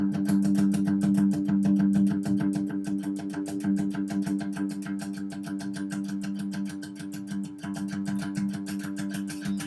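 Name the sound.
electric guitar playing sixteenth notes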